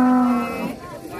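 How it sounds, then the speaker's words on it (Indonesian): A big bull moos loudly and close by, one drawn-out low call fading near the end, as jumbo cattle are unloaded from a truck at a livestock sale. "Wah, sapinya mantap nih, banteng"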